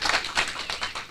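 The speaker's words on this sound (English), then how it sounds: "So the rest of my group is behind me making applause," A small group of scouts clapping just behind a speaker at a conference session, a short burst of quick, uneven claps, close and fairly light.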